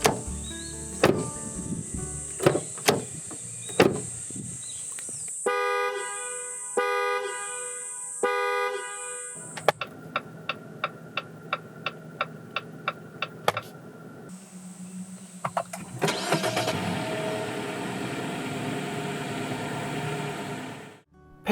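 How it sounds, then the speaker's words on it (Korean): Car sounds from a Jeep Renegade 80th anniversary edition with a 2.4 engine: chimes, horn toots, a run of rapid ticking signal clicks, then an engine starting and idling loudly at the end, with no talking. "잠시 레니게이드 80주년 에디션이 들려주는 감성 측면의 소리를 들어볼까요?"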